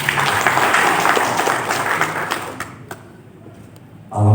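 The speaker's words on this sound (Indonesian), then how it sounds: "tepuk tangan dulu." An audience at a city program launch event in Palembang claps together in a dense burst of applause that gradually thins and fades out, followed by a brief thump.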